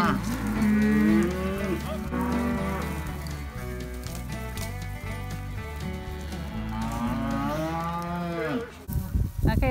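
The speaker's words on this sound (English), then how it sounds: "These are the calves that we are going to wean." Calves held in a corral before weaning moo constantly, many overlapping loud bawls close by, rising and falling in pitch with no pause.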